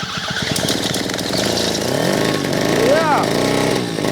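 A homemade Diesella engine starts and runs with a loud, close, rapid chugging rumble that rises in pitch, while people shout and exclaim over it.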